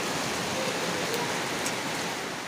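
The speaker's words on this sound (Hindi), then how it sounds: "ओह माय गॉड, ये देखो बारिश।" Heavy unseasonal rain in Kota pours down as a dense, constant hiss that fills the space close by, steady throughout with no voices over it.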